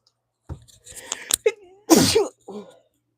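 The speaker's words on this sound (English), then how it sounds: "Oh, I feel like I got to sneeze." A loud sneeze bursts out after a few sharp intakes of breath, followed by a short vocal exclamation.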